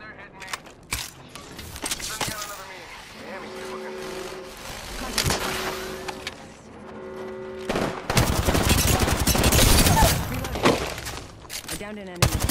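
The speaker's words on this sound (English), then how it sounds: "Shots fired. And they're hitting me." Gunfire in Apex Legends on Kings Canyon after dark: scattered sharp shots early on, then a dense, loud barrage of rapid fire near the end, with voices talking over the action.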